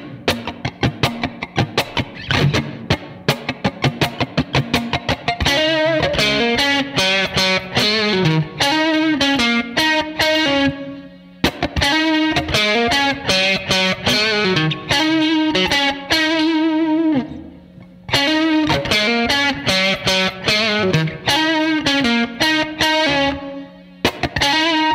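Distorted electric guitar plays an intro riff, with fast, busy picked notes and wah-like phrasing repeating in cycles, loud and close with no talking.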